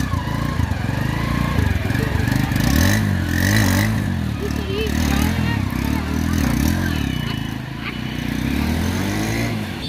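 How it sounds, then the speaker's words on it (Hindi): A TVS Sport motorcycle with a burnt clutch plate heads off on a test ride after servicing, its engine loud and close with a steady running drone and slight rises and falls in revs. "तो मेरी बाइक फाइनली बन के तैयार हो गई है, और ये जा रही है टेस्ट ड्राइव पे"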